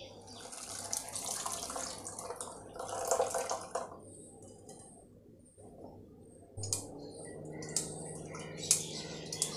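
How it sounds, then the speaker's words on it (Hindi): Mutton yakhni broth strained through a strainer and pressed, liquid splashing and trickling with clinks of utensils, close and moderately loud in a home kitchen, with brief background noise and no clear talk. "अब जो ये यखनी बची है इसे भी हम छान लेते हैं।"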